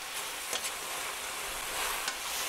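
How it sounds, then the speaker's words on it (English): White raisins are stirred in a hot pan under a loud, dense, steady sizzle, with a few soft scraping strokes on top and no voices. "Give them a stir."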